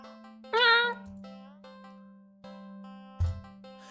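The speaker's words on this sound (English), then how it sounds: "Meowing." Black cat in a video game lets out a single short, rising meow near the start, heard close over a steady electronic tone and sparse game chimes.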